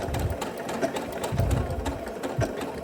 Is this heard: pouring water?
no